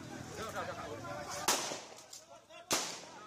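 Two sharp, loud police gunshots, roughly a second apart, at a villa near Brawa Beach, Bali, cutting through a noisy background with people talking.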